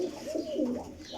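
A pigeon from a 100-year-old breed of flying pigeons coos close by in a short, soft, rolling series of throaty notes.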